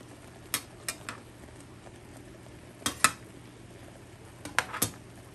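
Bacon cheddar sausage is flipped in a pan with a utensil, producing sparse light metallic clicks and taps in small clusters over a faint steady background hum.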